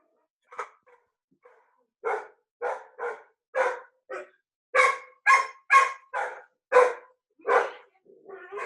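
A dog barks over and over at fairly close range, a run of about a dozen loud barks in quick succession, with no talking over them.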